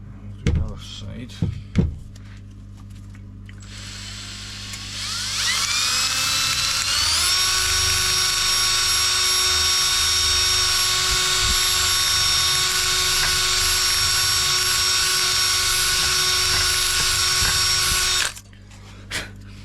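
A power drill whirs up and runs steadily for about eleven seconds at a high pitch before cutting off, with a few knocks around it, while refurbishing Range Rover L405 side steps.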